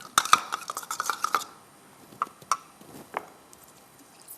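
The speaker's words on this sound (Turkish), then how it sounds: "Şimdi salatalığın suyuna limon suyu ekleyeceğim." Spoon clinks and taps against a glass or bowl while lemon juice is added to cucumber juice, a quick cluster of close metallic tinks at first, then a few sparse clicks after a quiet pause.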